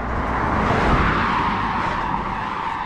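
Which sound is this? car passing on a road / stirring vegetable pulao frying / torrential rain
car passing on a road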